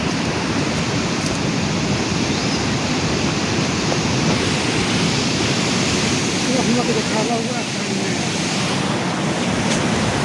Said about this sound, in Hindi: वो वहाँ से पानी गिर रहा है और यहाँ आ रहा है धीरे धीरे बहते हुए।